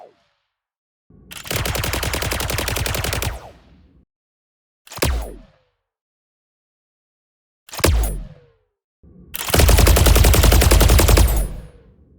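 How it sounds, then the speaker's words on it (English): Sci-fi weapon shot effects from the Strata Collection: four loud bursts, the first a sustained rapid-fire stream lasting about two seconds, then two short sharp blasts with falling tails, and a final long heavy barrage. "you can control the perceived size of the weapon shot sounds"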